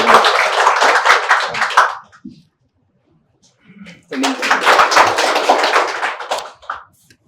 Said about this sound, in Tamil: எல்லாருடைய பலத்த கைத்தட்டலுடைய சசி சார் அவர்கள்